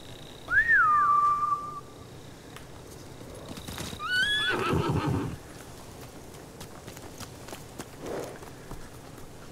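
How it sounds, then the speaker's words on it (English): Horses whinny loudly twice in a video game (Ghost of Tsushima), with shrill whistling calls, then hooves clatter and rustle in the distance before fading into quiet. "Bastards scared off the horses."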